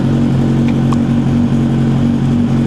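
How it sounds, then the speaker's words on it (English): A Suzuki GSX-R1000 motorcycle engine runs loud and close with a steady throbbing drone, holding a high rev level throughout. "Give it a few revs."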